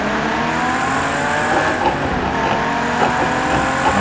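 A Ferrari 250 GT in a racing video game, its engine droning loud and steady in one gear with a faint tire squeal, no talk over it.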